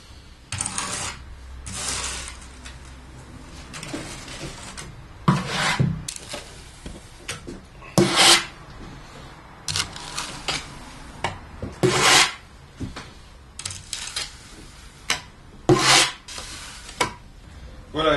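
Trowel scraping excess polished concrete off an old table top in repeated rough strokes, short rasping bursts separated by brief pauses, close up and with no one talking.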